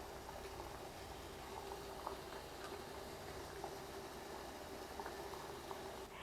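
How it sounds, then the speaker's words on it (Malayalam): Sugar syrup flavoured with cardamom pods, cooking for sponge rasgulla, boils steadily in a pan with a continuous soft bubbling and faint ticking pops, close and quiet throughout with no voices. "നമ്മുടെ ഷുഗർ സിറപ്പ് ഇപ്പം നല്ലതുപോലെ തിളച്ചിട്ട് വരുന്നുണ്ട്."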